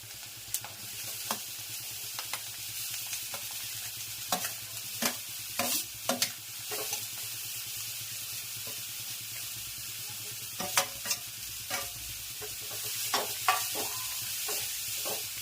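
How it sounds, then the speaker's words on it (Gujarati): Turmeric and chillies crackle in hot oil, then carrot and beetroot go into the pan for a Gujarati sambharo; a steady sizzle runs throughout, broken by sharp spoon scrapes and stirring clatters. "હળદર, મરચા તતડી જાય ને એટલે ગાજર ને બીટ નાખી દેવાના."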